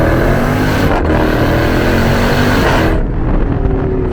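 A supercharged V8 in a Jeep Grand Cherokee Trackhawk roars under hard acceleration, loud and close, with a rising engine note and supercharger whine and a quick shift break, then easing off near the end.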